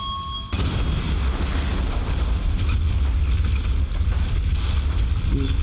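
A sudden deep boom erupts after a brief tone in the video game Tomb Raider, followed by a sustained low rumbling roar that stays loud and heavy throughout.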